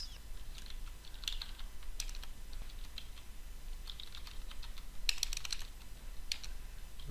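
Quiet keystrokes on a computer keyboard as a code comment is typed, coming in short irregular bursts of clicks with a brief louder flurry partway through, over a low steady hum, with no talk.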